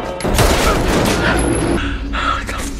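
A rapid burst of gunfire from a film shootout rattles out in dense, loud overlapping shots, with a voice talking over it.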